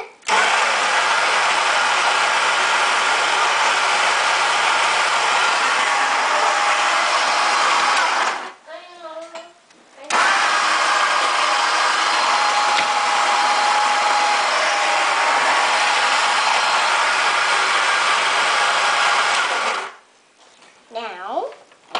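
A coffee grinder runs in two long, loud, steady bursts of harsh whirring, each about eight to ten seconds, separated by a short pause; voices speak briefly in the gaps.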